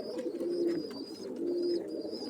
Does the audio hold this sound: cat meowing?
no